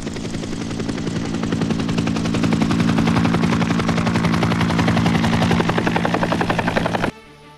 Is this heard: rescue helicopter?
yes